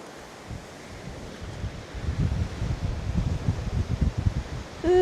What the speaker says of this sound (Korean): 너무 추워. 바람 소리 들리시죠?